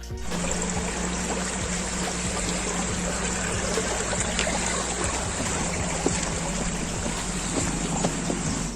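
Sewage water rushes steadily through the streets of Mariupol's city centre, a dense, unbroken gush and trickle close by, with no voices.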